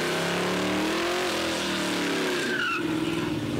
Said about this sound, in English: It's great to see these beautiful muscle cars on the strip.